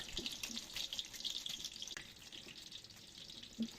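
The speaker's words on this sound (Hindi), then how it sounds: "सबसे पहले हम प्याज ऐड करते हैं। घी गर्म हो गया है।" Onions fry in hot ghee, making a soft, even sizzle and crackle close by, fairly quiet and steady, with a faint clink near the end.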